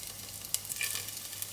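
Ginger goes into a hot frying pan with a soft, steady sizzle and a brief stir. The sound is close and fairly quiet.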